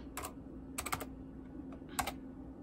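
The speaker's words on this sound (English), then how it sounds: "Type in my password." Brief bursts of computer keyboard typing as a password is entered for a simulated 90s dial-up connection, three or four short clusters of quiet, close key clicks with pauses between.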